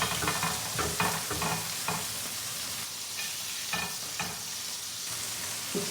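Food cooking on a heated tortilla pan, with a steady sizzle and periodic scraping and stirring bursts, fairly close and without any talk.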